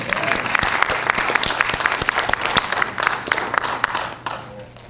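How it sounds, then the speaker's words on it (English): Steady audience applause for a guest introduced at a horror film show, a dense patter of many hands clapping throughout, fairly loud and without talk. "So big applause to her."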